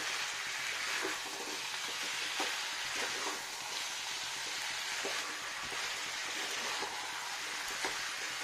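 Food sautéing in an aluminium wok gives a steady, close sizzle with faint scraping and stirring clicks throughout, and no voices.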